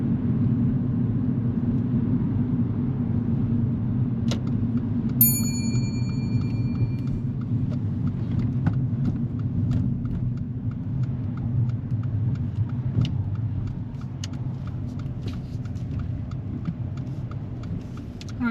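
Steady low rumble of a car driving at low speed during a driving lesson, turning into a car park, with faint clicks over the constant road and engine hum.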